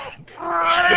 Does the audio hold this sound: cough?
no